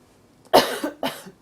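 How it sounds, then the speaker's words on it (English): A patient gives two sharp coughs close to the mic during a medical exam, the second a little weaker, with a quiet pause between them. "Can you take a big breath and cough for me?"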